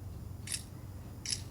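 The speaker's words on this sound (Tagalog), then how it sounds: "Wow, may shutter sound pa." Two crisp shutter clicks from the camera of an Infinix GT 30 Pro phone, spaced under a second apart over a low steady background hum.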